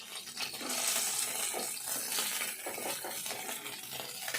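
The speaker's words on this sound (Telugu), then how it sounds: "చేపలన్నీ కూడా కొంచెం స్టవ్ సిమ్లో పెట్టుకొని వేపుకోవాలి." Small fish fry in a pan on a stove at low heat, giving a steady moderate sizzle and crackle that continues throughout with no talking.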